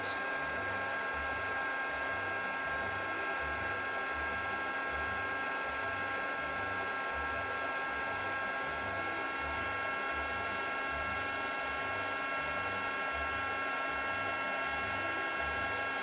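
A craft heat tool blows hot air to set embossing powder on a card, a constant airy whir with a low pulsing motor rumble running steadily throughout at moderate level, with no speech.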